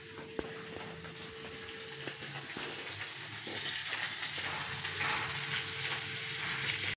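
Food frying in a home kitchen pan, a continuous sizzle and hiss that grows louder and denser, with occasional clinks of stirring utensils.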